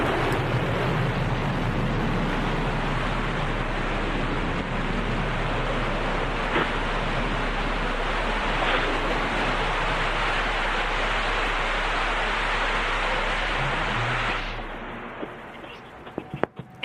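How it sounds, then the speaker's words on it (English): Blue Origin New Shepard rocket booster during its landing engine burn, a loud, dense broadband roar that holds steady for about fourteen seconds, then cuts off sharply into quieter rumble and a few scattered pops. "And a beautiful landing for the new Shepard booster, kicking up some dust."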